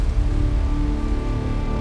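Heavy rain at a race track gives a continuous, loud wash of noise with a low rumble beneath, steady throughout.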